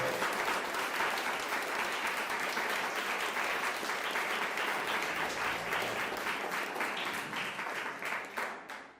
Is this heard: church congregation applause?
yes